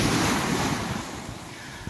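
Ocean waves wash along an English coastal shore, a broad steady roar of surf mixed with wind buffeting the microphone, gradually easing over the stretch.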